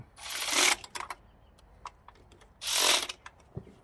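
A hand ratchet tightens a bolt on the throttle body of a 1989 Toyota 4x4, with two short bursts of quick ratcheting clicks close by, separated by quieter scattered ticks.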